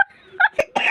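Several short coughing bursts, close and fairly loud, separated by brief pauses, the last one a bit longer and rougher.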